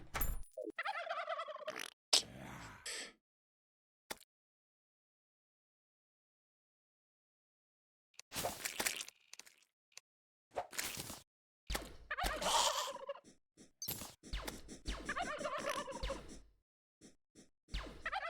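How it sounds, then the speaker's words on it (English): Several turkeys gobble in the game Zenith Skyblock in loud, rattling bursts, some clustered early, then a long silence, then more gobbles mixed with sharp thwacks and thuds. "If you're wondering why you keep hearing turkeys, it's because of this thing."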